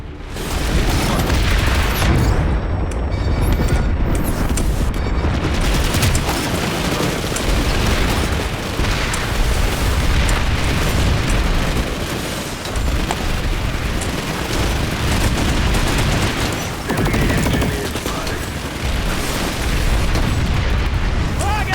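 Grenade explosions in the video game Planetside 2 boom repeatedly through a dense, loud battlefield din of gunfire and blasts, with a voice shouting over the chaos.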